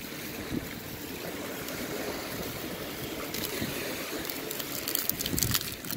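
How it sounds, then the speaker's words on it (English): Breeze and lapping water along the Lake Erie shore, with sailboats racing offshore: a steady rushing wash of wind and small waves, moderately faint, no talking. "Pretty good breeze kicking up, so I'm sure they're doing well."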